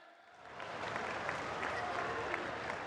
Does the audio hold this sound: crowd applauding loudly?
yes